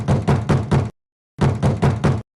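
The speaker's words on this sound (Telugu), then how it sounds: "ఎవరో తలుపు కొడుతున్నారే?" Knocking on a wooden door, two quick bursts of four firm raps each, close and loud, separated by a short pause, with no voices.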